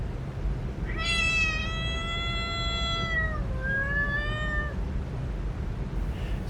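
A domestic cat gives two clear, drawn-out meows, the first long and the second shorter and falling, heard close up over a constant low background rumble with no talking.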